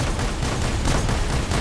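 Dense, continuous rapid-fire gunfire in the robot combat game War Robots, loud and steady throughout with overlapping shots and no talk.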